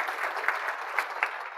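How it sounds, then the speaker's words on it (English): Brief round of audience applause at a plenary session of an arts summit, dense steady clapping with a few sharper individual claps standing out. "clap for her."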